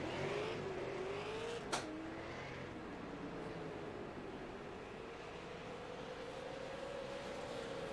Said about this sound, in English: As Connor have to wait for the field to go by here.